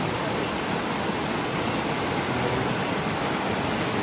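River water rushes around stones near carved rock in the middle of a river close to Sringeri, a loud, continuous broadband wash of flowing water with no other sounds.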